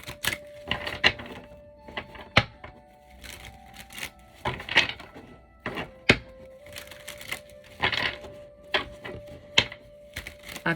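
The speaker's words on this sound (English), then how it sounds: "Let me shuffle these real good" Tarot cards shuffled by hand, a series of crisp riffling bursts and taps in an uneven rhythm, close and fairly loud, with a faint steady tone beneath.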